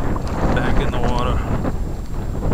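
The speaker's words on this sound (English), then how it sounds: "it's windy. We got that hurricane force wind." Strong wind buffets the microphone in a constant loud rumble while fishing for jacks on the water, with a splash of water and faint voices underneath.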